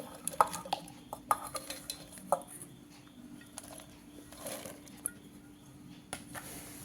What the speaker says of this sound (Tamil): மிக்ஸி ஜாரில் நம்ம எடுத்து வச்சுருக்கிற கேரட்டை வந்து சேர்த்துக்கலாம்.